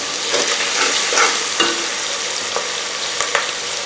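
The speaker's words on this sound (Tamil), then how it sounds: "வெங்காயம் கொஞ்சம் நல்லா பொரிஞ்சிச்சு." Onions fry in a mix of oil and ghee in a cooker pot, giving a dense, close hiss and crackle throughout, with a few louder spatters and stirring scrapes breaking through; no voices.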